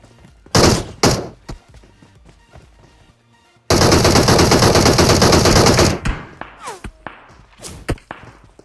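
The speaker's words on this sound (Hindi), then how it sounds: "चारों तरफ से गोलियां चल रही है" Loud PUBG Mobile gunfire: a few sharp shots, then a long sustained burst of rapid automatic fire, followed by scattered single shots and thuds.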